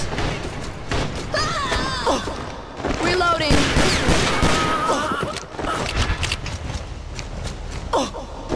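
Rapid pistol gunfire in a video game cracks repeatedly amid busy action sounds, with excited voices talking over the shots throughout.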